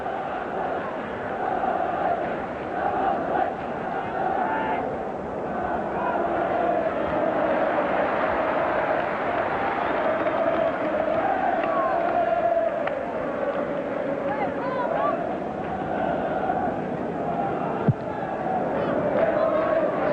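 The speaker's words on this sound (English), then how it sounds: "runs back to the applause of the crowd" A 1982 Second Division football crowd at Barnsley versus Burnley sends up a broad, continuous roar of applause and cheering that swells and holds throughout, with voices in the stands underneath.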